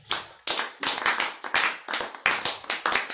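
A church congregation claps in steady rhythmic unison to praise the Lord at a French-language worship service, with crisp, evenly spaced claps continuing without a break.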